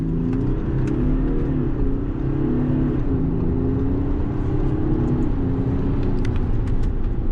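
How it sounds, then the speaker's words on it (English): An Audi A7 50 TDI launch-control start: a steady, loud low diesel roar holding through the whole stretch, the engine note rising slightly in pitch as the car pulls hard, with no talk over it. "foot on the brake, floor the throttle, launch control active"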